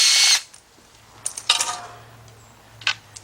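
A power tool zips out engine bolts on a Nissan head gasket job, a loud short whir at the start followed by a few quieter, brief bursts of ratcheting and clanking spread across a few seconds, with no talking.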